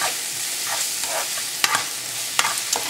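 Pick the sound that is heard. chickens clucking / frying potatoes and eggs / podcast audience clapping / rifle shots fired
frying potatoes and eggs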